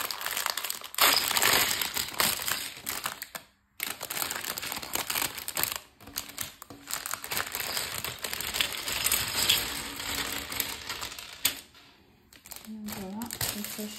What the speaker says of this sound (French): Alors, on va ouvrir le sachet numéro 1.